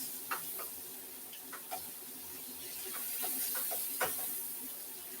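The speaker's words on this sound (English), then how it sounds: "So I'm going to saute this in my burnt curry." Curry sautés in a pan, giving a bright continuous hiss with scattered small ticks and pops of spattering, close up and without talk.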